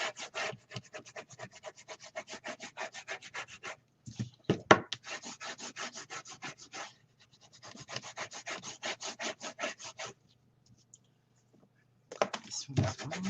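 Double-sided tape being burnished firmly onto paper for a scrapbook mini album, a close, rapid rhythmic rubbing in several bursts separated by short pauses.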